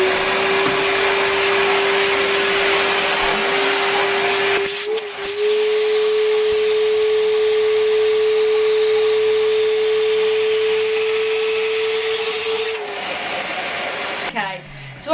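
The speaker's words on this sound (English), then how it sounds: "I've literally just vacuum packed about 10 coats into the size of like 2 coats" Vacuum sealing a storage bag packed with coats, a loud steady motor whine with a strong fixed tone that runs for several seconds, dips briefly, then resumes and stops near the end.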